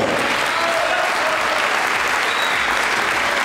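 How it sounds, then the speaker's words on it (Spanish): Steady, dense applause from an audience at the unveiling of a 2017 official team jersey, continuous and fairly loud throughout with no speech over it. "Un aplauso grande a Gustavo."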